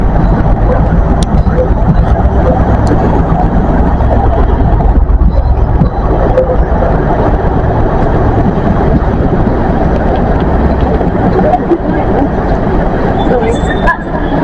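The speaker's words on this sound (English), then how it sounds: "And you hear that turbine because it's in high gear" A model railway train with a turbine-type drive runs in high gear, giving a steady, loud whirring drone that holds without break throughout, with faint voices blending into the mix.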